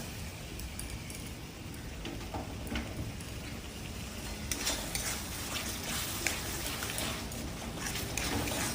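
A ground spice paste of ginger, garlic and green chili fries in a pan with tomato for a prawn pulao, giving a steady close sizzle with light stirring scrapes and occasional clinks throughout.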